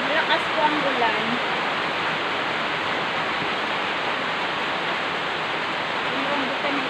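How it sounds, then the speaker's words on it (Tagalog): Heavy rain pours down in a dense, loud, unbroken wash of noise that holds steady for the whole stretch. "Malakas po ang ulan."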